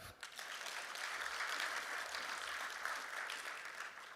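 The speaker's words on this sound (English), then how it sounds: "Can we give our alumnus a bigger clap?" A crowd at a university ICT job fair launch claps for a returning alumna, the Vice President, in a steady, full burst of applause heard alone at moderate level.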